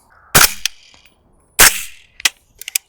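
Two suppressed 300 Blackout rifle shots, each a sharp, close report with a short decaying tail, followed by a few faint metallic clicks and clinks.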